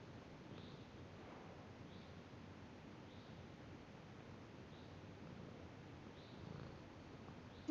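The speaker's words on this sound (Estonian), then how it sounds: "Miks see kass nurrub" A cat purrs in a steady low rumble, quiet and continuous with soft rustling, no one speaking over it.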